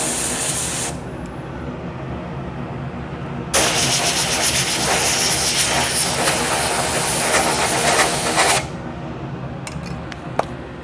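Wood lathe spinning a stabilized lotus pod blank during turning and sanding, a loud broadband hissing rush that surges in for several seconds, then cuts off, leaving quieter shop hum.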